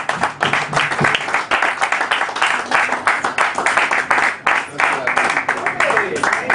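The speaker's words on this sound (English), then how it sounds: "Please put your hands together for Pinchas Levinson" An audience claps steadily and fairly loudly for Pinchas Levinson, a continuous patter of many hands held at an even level for several seconds.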